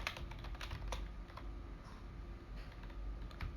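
Computer keyboard being typed on while entering text in AutoCAD, a quick run of soft, close key clicks with short pauses, faint and steady with no voice.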